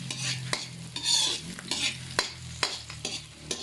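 Onions fry in spread-out oil in a pan, a close, lively sizzle with repeated spatula scrapes and taps at a quick, irregular rhythm, no voices.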